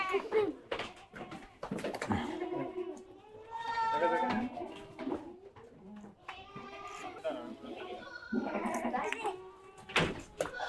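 Goats bleat repeatedly during PPR vaccination, with several loud, wavering cries close by at irregular intervals, mixed with people talking and handling noises.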